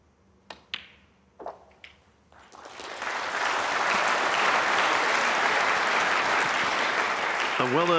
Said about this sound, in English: A well-earned round of applause